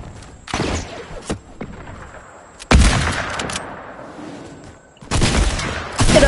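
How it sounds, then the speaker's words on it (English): Loud shotgun blasts in a video game come in separate bursts: a couple of early shots, then a heavy boom that fades slowly, and another sharp cluster near the end. Long quiet gaps fall between them. "Someone's got a shotgun."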